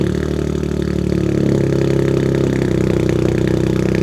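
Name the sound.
Toyota GR Corolla starting with aftermarket exhaust valve closed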